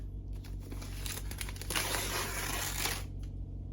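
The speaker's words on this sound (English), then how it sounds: "So let's unwrap it. I do love that they wrap it like a present." Paper wrapping on a book package is torn and crinkled open, a steady close-up rustle and crackle of about three seconds that fades into quiet.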